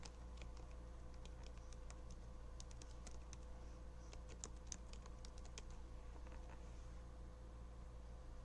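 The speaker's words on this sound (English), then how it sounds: "My typing sucks." Rapid, uneven clicking of keys on a computer keyboard, fairly quiet, over a steady low electrical hum.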